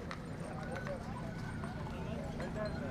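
Horse hooves clip-clop at a horse market in a steady run of light, distant clops under a bed of crowd noise and voices.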